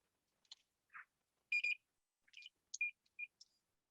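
Short, quiet electronic beeps and chirps sound in a sparse, irregular series against silence, several brief tones at slightly different pitches.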